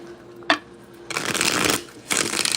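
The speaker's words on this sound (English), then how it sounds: "I did a pre-shuffle, so I'm not going to shuffle too much." Tarot cards are shuffled by hand in two quick riffling bursts close to the microphone, with a light tap of the deck just before.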